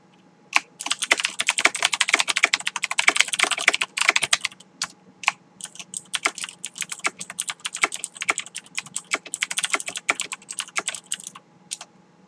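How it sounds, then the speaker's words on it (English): Typing on a Filco Majestouch mechanical keyboard with Cherry MX Blue switches: a fast, dense burst of sharp clicky keystrokes, a short pause, then steadier, more spaced-out typing, close and alone. "I'd like to take a moment now and let you hear the MX Blues in this keyboard in action."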